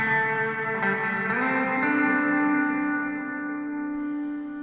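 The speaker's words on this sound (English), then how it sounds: "then I can kick in the other reverb." A sustained electric guitar chord rings out through a Headrush reverb pedal, washed in heavy reverb and shimmering echo, slowly swelling and fading.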